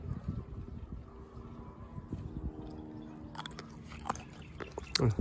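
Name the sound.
biting and chewing crunchy mulberries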